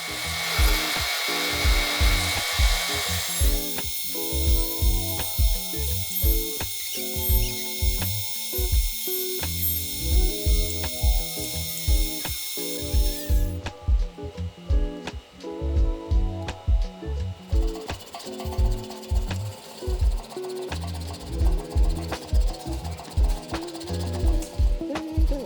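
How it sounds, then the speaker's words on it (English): A milling machine cuts certified 1018 mild steel for a knife bolster, a steady grinding cutter tone broken by repeated rhythmic chatter and pauses, close and fairly loud throughout with no talking. "we're going to take a piece of certified 1018 steel, and we're going to mill it in for the bolster"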